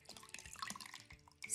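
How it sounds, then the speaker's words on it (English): Water squeezed from a sponge while underglaze colours are rinsed on a ceramic sculpture, a short run of close, faint drips and trickles that ends in a brief, louder splash. "squeeze the water out again."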